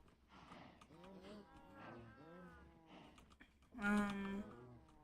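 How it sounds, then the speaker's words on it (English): Cows moo in Minecraft, several drawn-out lowing calls in a row at low volume, with one louder, closer moo near the end. "See how many cows we can get to breed."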